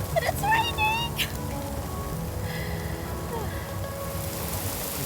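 Rain falls steadily during an afternoon safari drive, a continuous hiss of drops on surfaces, with a few bird chirps near the start.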